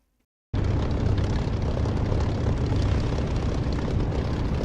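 A propeller aircraft engine in the DCS flight simulator runs at a steady, loud, continuous drone while taxiing, with a low rumbling throb. It cuts in abruptly after a brief silence and holds unchanged to the end, with no talking.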